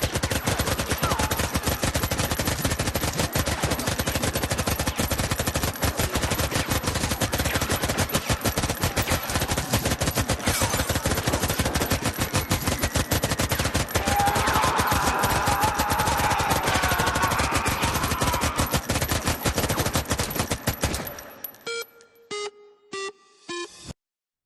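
Gunfire from a TV series scene rattles on continuously for about twenty seconds as dense, loud automatic bursts, then breaks into a few scattered isolated shots before going quiet.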